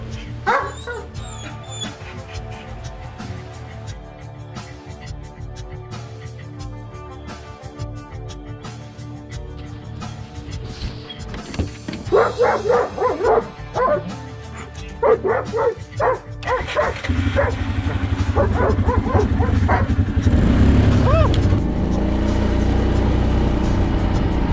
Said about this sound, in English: The dogs will circle around and bark at each other.